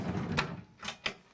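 Large under-bed storage drawer in the cabin of a Nimbus 365 Coupe boat sliding open, heard as two or three quiet wooden rumbles and a soft knock, with no talking.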